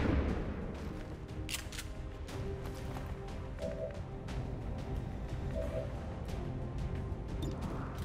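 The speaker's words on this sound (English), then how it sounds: "Fucking flashbangs." Flashbang grenades bursting during an XCOM 2 tactical firefight: a scatter of brief sharp cracks over a steady low rumble, fairly faint and without talk.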